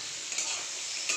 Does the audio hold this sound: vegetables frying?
yes